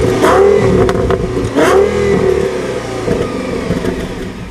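An Audi S8 with a 5.2 FSI V10 engine revs hard, its loud mid-pitched roar rising and falling in two strong pulls before settling into a steady, slightly fading drone, close and alone.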